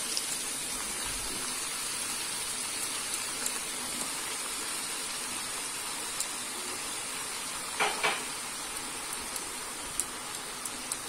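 Brinjal and onion cooking together in a pan for a quick bhaji, giving a steady, even sizzle throughout with a brief sharper crackle partway through; no talking.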